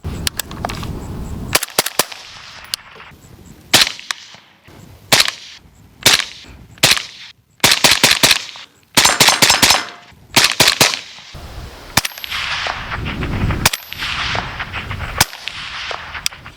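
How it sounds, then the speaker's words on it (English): A series of sharp, cracking suppressed 5.56 rifle shots, each followed by a loud metallic ping off steel targets, fired one at a time with short pauses between shots. "Hitting the steel way louder than the gunshot."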